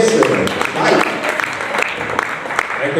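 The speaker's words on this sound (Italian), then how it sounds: "un applauso anche al nostro editore di Radio RCS" An audience at the Miss Europa regional pageant final in Veneto applauds loudly and continuously, with an announcer's voice carrying over the clapping.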